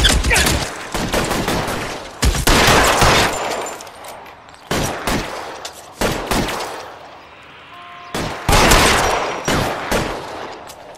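Gunfire in the video game L.A. Noire breaks out in loud, rapid bursts of overlapping shots. Volleys come in clusters with brief lulls between them, close and dominant with no voices.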